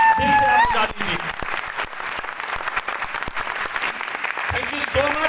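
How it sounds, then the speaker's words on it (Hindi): An audience at a direct-selling seminar bursts into loud, sustained applause for the volunteers, a dense wash of clapping from a large crowd with a voice briefly heard at the start and end. "तालियां दिल से आप बजा दीजिए।"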